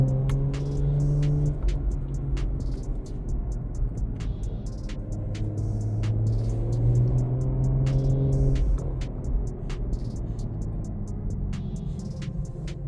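A BMW M340i with an upgraded exhaust drives in sport mode, giving off a steady low engine drone and road rumble that rises and falls gently with throttle, with no talking over it.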